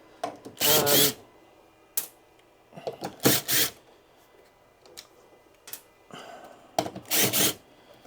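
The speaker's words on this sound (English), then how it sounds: "Just need to unscrew this from the wall." A Victron Cerbo GX unit is unscrewed from a wall with a power drill, several short loud whirring bursts separated by quiet pauses and small clicks, close by, with no speech.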